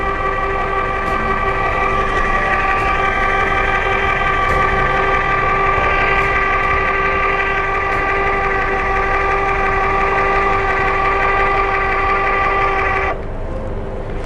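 A 12V electric scissor jack motor raises a car with a continuous loud, strained whine of stacked tones that holds steady for about thirteen seconds, then cuts off abruptly.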